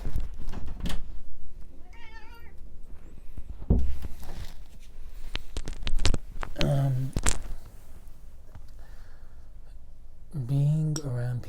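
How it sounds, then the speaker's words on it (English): A house cat meows at a door, asking to be let in. Several distinct mewing calls come from close by, spaced apart and alternating with a person talking. "She's meowing."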